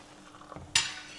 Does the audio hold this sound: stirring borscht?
yes